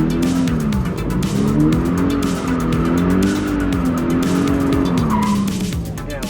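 A car drifting in repeated spins, its engine revving up and down beneath continuous, wavering tire squeal, loud and close throughout.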